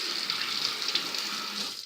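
Tap water runs steadily into a kitchen sink to rinse a spoon, a close, continuous hiss with no talking.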